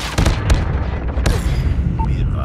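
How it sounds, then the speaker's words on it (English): A predator missile strike in Call of Duty Mobile multiplayer lands as a loud, close blast with a rumbling roll, followed by a second sharp burst and trailing debris noise. "Predator missile inbound."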